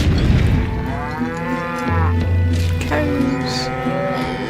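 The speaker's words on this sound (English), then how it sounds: "Cows." Cattle moo loudly and close by in the Western video game Call of Juarez Gunslinger, long drawn-out lowing calls overlapping one another, with a deep boom partway through.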